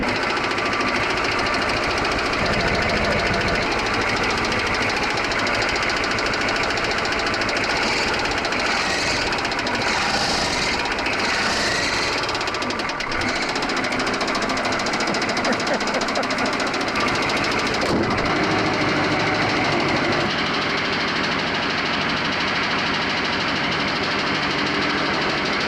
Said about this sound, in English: Those old diesels, they just clickety clack away.